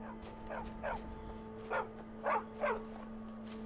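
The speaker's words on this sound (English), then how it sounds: "Who the, what the, dog? Dog. A dog. A dog." Dog barking in the Skyrim video game, a handful of faint, evenly spaced barks over a steady low hum, with no talk.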